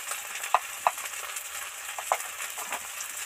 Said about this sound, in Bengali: এবার 1 চামচ হলুদ গুঁড়ো তেলের মধ্যে দিয়ে দিলাম